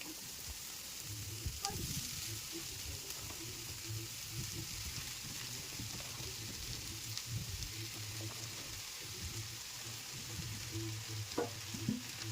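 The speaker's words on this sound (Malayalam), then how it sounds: "ഇനി ഞാൻ ഇതിലേക്ക് ഈ എടുത്തു വെച്ചിരിക്കുന്ന സോസേജ് ഒന്നിട്ട് കൊടുക്കുവാണ്." Sausage frying with onions in a pan, a continuous even sizzle close by with occasional faint stirring clicks and scrapes throughout.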